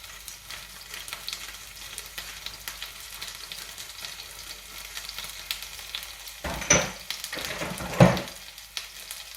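Spinach cooks in a pan with dried garlic and powdered cumin, a soft, close sizzle under a couple of louder stirring scrapes near the end, with no talk.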